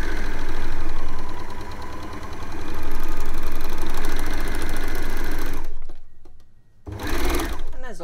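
A four-thread overlocker runs steadily, stitching and trimming the edges of a fabric knicker gusset piece, its fast mechanical whirr continuous and close before stopping briefly, then a short burst of handling and motor noise.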